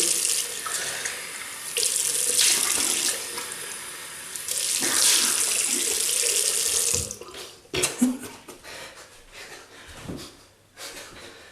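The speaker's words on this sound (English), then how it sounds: "we're going to rinse off with water first" Tap water runs into a sink to rinse a shaving brush, a steady close splashing stream that breaks into intermittent gushes and drips as the brush moves under it.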